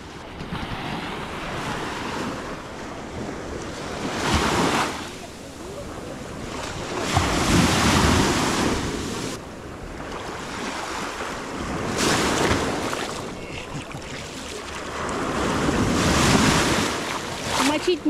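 Baltic Sea waves breaking and washing up on the shore in slow, repeated surges, with steady wind buffeting the microphone throughout.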